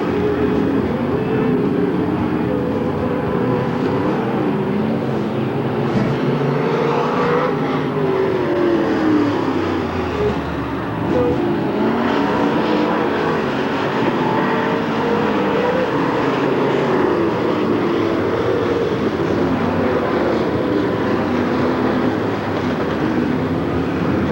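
Race cars roaring around the dirt oval at Hamilton County Speedway during a 1993 fair race, a dense continuous engine drone with shifting pitch as the pack circles, loud and steady throughout.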